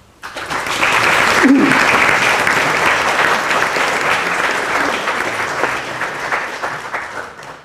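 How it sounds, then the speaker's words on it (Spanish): A round of applause for a speaker at a round-table session on computing rises quickly and holds loud and dense for several seconds before tapering off at the end. "Démosle un aplauso."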